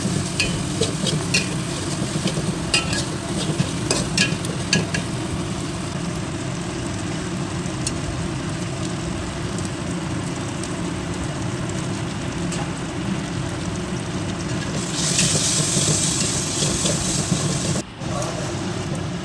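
A spice paste with salt, turmeric and Kashmiri chilli sautés in a pan with a steady, close sizzle, punctuated by scraping stirs and occasional clinks throughout.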